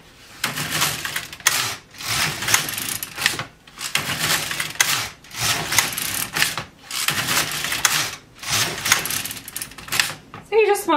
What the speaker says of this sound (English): So to scrap off, you just want to knit with waist yarn.